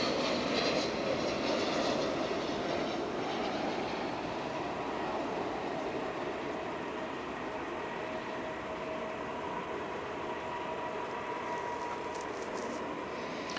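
An American Airlines airliner at Dallas/Fort Worth Airport produces a steady, distant jet engine roar that holds constant throughout, with no talk over it.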